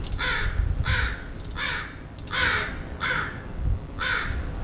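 Six loud, harsh caws from a crow come in a steady rhythm over faint outdoor ambience.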